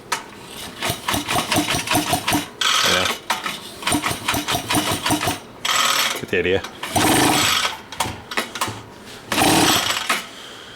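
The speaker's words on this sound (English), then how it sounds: "They are timed 180 degrees out from each other. So it's like pop, pop, pop, pop when you go to give them a chug." Twin small bike engines timed 180 degrees apart, sputtering in quick popping chugs with stops and restarts, close and loud, someone speaking briefly between bursts.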